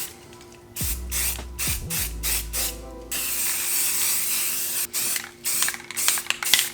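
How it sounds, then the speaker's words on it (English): Spray paint can hissing in short repeated bursts onto a Trophyline saddle hunting platform, several close, loud sprays with brief pauses between them and no talk. "So you want to spray and kind of like burst so you don't get any drippage."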